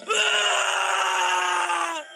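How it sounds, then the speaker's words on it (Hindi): A man screams in a cartoon horror story, one sustained loud cry of about two seconds that holds steady and then cuts off, alone without other voices. "तभी गोपी की चीखने की आवाज आती है।"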